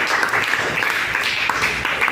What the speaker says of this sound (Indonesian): Kita beri aplaus ke kelompok